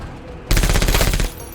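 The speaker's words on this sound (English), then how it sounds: "don't you dare try and machine gun me" Rapid machine gun burst in a video game, about a dozen loud close shots in one quick rattle lasting under a second.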